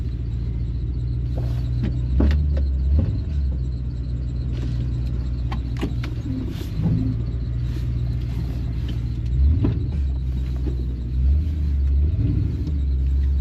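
A Ford F250 HD pickup idles with a steady low engine rumble while reversing slowly, with occasional creaks and mechanical clunks from the chassis; no talk.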